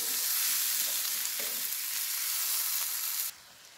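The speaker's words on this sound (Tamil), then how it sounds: "இப்போ நம்ம கழுவி வச்சுருக்க ஆட்டோட மூளையை அதையும் போட்டு நல்லா கலரி விட்டுக்கலாம்." Goat brain fries and is stirred in a hot pan, giving a loud, steady sizzle that runs without pause before dropping away abruptly near the end.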